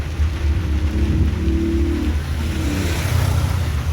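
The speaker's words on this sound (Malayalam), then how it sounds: "ഞങ്ങൾക്ക് സൂപ്പർ മഴ കിട്ടിയിട്ടാ." A car's engine drones low and steady while a broad hiss of rain washes over it throughout, heard from inside the moving car.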